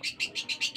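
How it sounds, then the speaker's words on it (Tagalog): A small pet bird chirps in quick, even repeated bursts, faint and close, with nothing else heard. "At ang ingay ng aking ibon."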